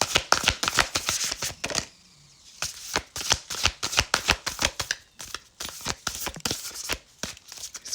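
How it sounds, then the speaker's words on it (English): Rapid riffling bursts of playing cards being shuffled, several quick shuffles with a short pause in between, close and crisp. "These cards are shuffling weird."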